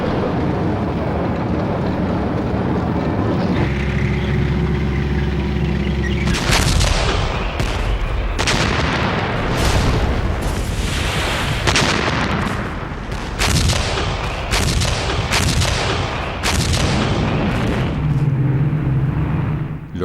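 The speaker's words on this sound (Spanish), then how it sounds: "fueron acribillados por el fuego alemán" German gunfire and artillery from WWII Arnhem battle footage: a dense run of loud booming blasts and crackling shots following one another for most of the stretch, under a steady roar.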